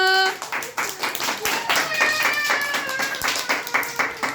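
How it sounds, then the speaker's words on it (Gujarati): Small children clap together at an anganwadi birthday celebration, a quick, uneven patter of hand claps running throughout, mixed with voices talking and calling out over it. "ચાલો બધાય તાળી પાડી દો"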